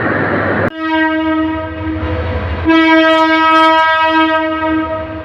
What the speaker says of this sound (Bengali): কমলাপুর রেল স্টেশনের দুই নম্বর প্ল্যাটফর্ম থেকে রংপুর অভিমুখী রংপুর এক্সপ্রেস ট্রেনটি ঢাকা কমলাপুর রেল স্টেশন ছেড়ে যাচ্ছে